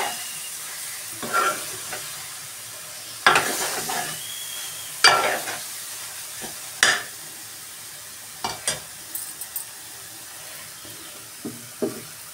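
Chicken curry with wet coconut sizzles in a pan under a constant low frying hiss, punctuated by intermittent scraping stirs and clinks of a spoon, with no talk.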